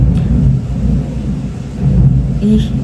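Heavy rain pours with deep thunder rumbling loudly and continuously, a dense low roar across the whole short stretch.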